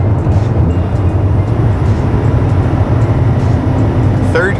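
A turbocharged BMW accelerates hard in third gear, its engine a loud, steady drone that fills the whole stretch with continuous road and wind noise and no break.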